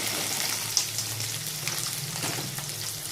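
Urad dal tempering frying in oil in a pan for upma, a soft continuous crackling sizzle with a low hum beneath and no voices.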